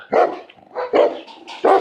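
Guard dogs in a Polish village bark in three loud, close bursts, separated by brief pauses, with no talking.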